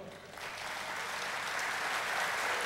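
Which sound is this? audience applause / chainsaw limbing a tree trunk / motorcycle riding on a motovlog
audience applause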